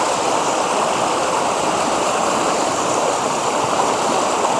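A river with a waterfall pours and rushes in a steady broadband roar, close and constant, with no voices over it.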